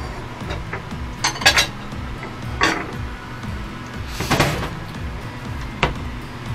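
Plates and dishes clinking and being moved about in a kitchen while cornflake-coated fried chicken is plated, a few scattered close clatters over a low steady background hum.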